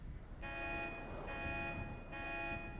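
Car alarm in FiveM, the GTA V multiplayer mod, sounding in three repeated electronic tone blasts with brief gaps, steady and moderately distant.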